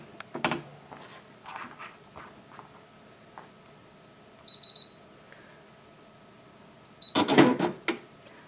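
A Brother ScanNCut cutting machine powers on with a few short electronic beeps and faint clicks, followed after a pause by a louder burst of mechanical whirring and rattling as it starts up nearby in a quiet room.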